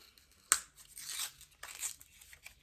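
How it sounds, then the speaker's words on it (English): Cosmetic product packaging from a beauty subscription box is torn open by hand, a sharp rip followed by a few softer crinkling tears, close and fairly quiet. "I'm just gonna rip it open."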